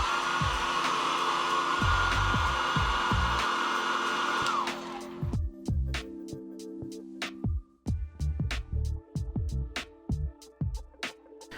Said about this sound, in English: Using a hairdryer, heat the iPhone case.